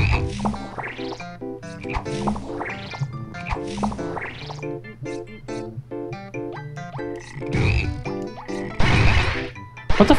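Cartoonish frog croaks from the video game Battleblock Theater repeat in a steady, bouncy rhythm over game music, with springy boing-like effects and occasional louder thwacks, and no talking.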